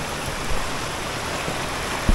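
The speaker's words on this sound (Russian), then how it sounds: "Ручей Сахновка" The Sakhnovka, a mountain creek, rushes continuously in broadband noise at close range, steady and loud throughout with no voices.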